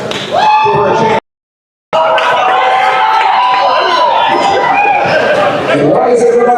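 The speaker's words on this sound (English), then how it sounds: "What a crowd we have here." A large crowd gathered at a Pierre Poilievre rally in Canada, a dense loud wash of overlapping chatter and voices with a brief dropout partway through, then the murmur continuing steadily.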